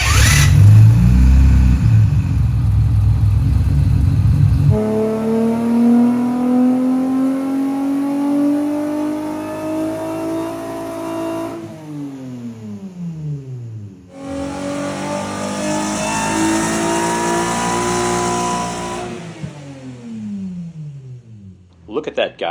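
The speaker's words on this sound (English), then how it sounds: "we can use VTEC all the way, and we can rev it up and hopefully make boost the whole time" A supercharged J-swap Honda Civic drag car revs hard on a dyno: engine pitch climbs steadily through two long, loud pulls, with a brief drop between runs and a shift back to rising wail, close and dominant.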